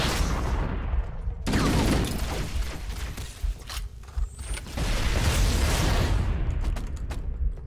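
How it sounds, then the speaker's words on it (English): Video game explosions: rumbling blasts and crackling bursts come in quick succession, loud and dense, with brief lulls between, like a chain of explosions and gunfire, in Halo: Combat Evolved Anniversary. "I like those secondary explosions."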